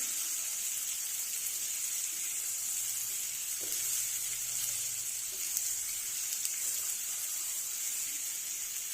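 Pangas fish and masala sizzle steadily in a pan over medium heat, a continuous even hiss of frying close by with no talk.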